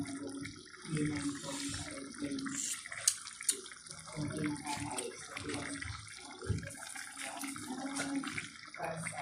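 A spoon is rinsed under a running tap in a home kitchen, a steady faint splash of flowing water with small clinks, and a voice speaks softly beneath it.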